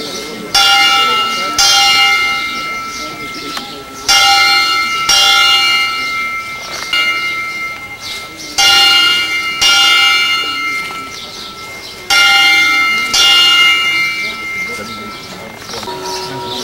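A bell ringing to call people into a dining hall in Myanmar, loud, clear metallic strikes in repeated paired groups with long ringing decay, sounding alone.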